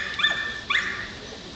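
A dog at a judged dog-sport training session gives two sharp, high-pitched barks about half a second apart, close and clear, with no other sounds.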